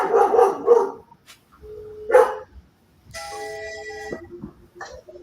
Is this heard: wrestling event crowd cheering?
no